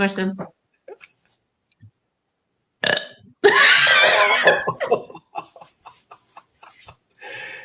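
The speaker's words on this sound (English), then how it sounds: "So shall I do a burp?" A long, loud, rasping burp follows a brief spoken bit, then gives way to giggling and scattered voices.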